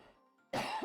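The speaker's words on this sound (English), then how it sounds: "had to cough and everything" A single loud cough bursts out after a half-second of faint room tone during a talk on depression, its rough burst stretching over about a third of a second with a second smaller push at the end.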